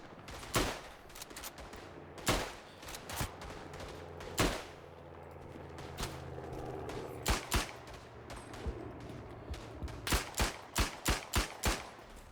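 Sharp Luger pistol gunshots crack out in an irregular string, some isolated and some in quick bursts, loud over a low rumbling backdrop in the World War I video game Tannenberg.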